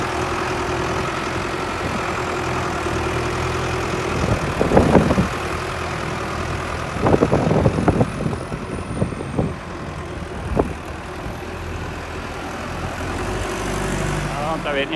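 Tractor fitted with a front loader runs its engine in a steady idling drone, punctuated by a few louder clattering, rattling bursts from the machinery.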